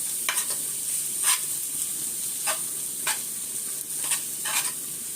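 Bottle gourd and fenugreek handvo batter roasts in a pan, a steady bright sizzle with a handful of louder bursts of frying hiss spaced a second or so apart.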